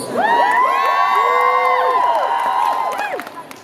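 A convention audience at a Creation UK event in Birmingham cheers and whoops loudly, many high voices shouting at once in a sustained burst that fades out after about three seconds.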